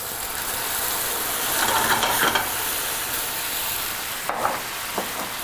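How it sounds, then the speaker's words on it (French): Cumin seeds and spices sizzle steadily in a hot pan after a splash of red wine vinegar, a dense close hiss with a few brief louder pops and crackles near the end. "Je déglace avec un vinaigre de vin rouge."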